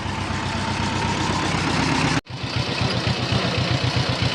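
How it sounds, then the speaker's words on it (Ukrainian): A Polish Bober walk-behind tractor engine runs steadily with a loud, even throb close by, briefly cutting out for an instant midway before resuming its chugging. "тепер їду цим польським бобером в найми"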